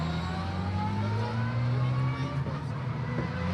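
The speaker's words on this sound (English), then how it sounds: "So here come the rest of the cars now." Porsche race cars roll into parc fermé after a Porsche Sprint Challenge Southern Europe round at Portimão, engines humming and revving steadily at mid distance with a continuous low drone, with a voice talking over them.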